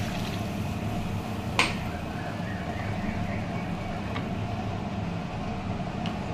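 Water is poured in a steady stream into fried spice paste (masala) in a pan while cooking a pomfret fish curry, a continuous wet rushing close by with one brief clink partway through.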